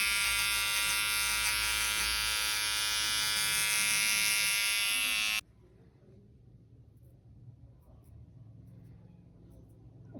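Small electric hair clippers buzz loudly and steadily while trimming a taper haircut, then cut off abruptly about halfway, leaving a quiet room with faint low background noise.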